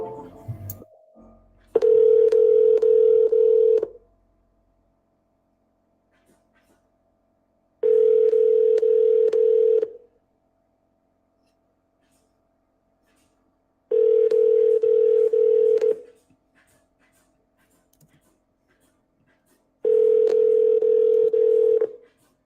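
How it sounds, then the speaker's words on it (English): An outgoing telephone call to a seller rings four times. Each long, steady ring tone lasts about two seconds, with even silent gaps between them and no voices. "we double and triple dial all of our sellers"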